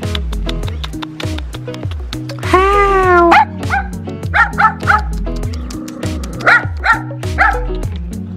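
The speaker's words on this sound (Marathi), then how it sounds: "आणि कुत्रं खूप भुंकतो आहे माझ्यावर." A dog barks repeatedly and insistently in a village lane in Tongli, Wujiang, China, the barks close and loud, with some yips and whines, over a steady rhythmic musical pulse running underneath throughout.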